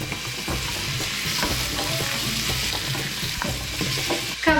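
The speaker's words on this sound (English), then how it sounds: "Give your onions a really good stir and then add in the carrots." Onions and carrots sizzle and fry in a pan while being stirred, a steady close crackle with scraping stir strokes throughout and no talking.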